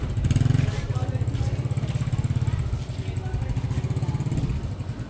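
A motorcycle engine runs close by with a throbbing low rumble that holds steady, dips briefly midway and then picks back up.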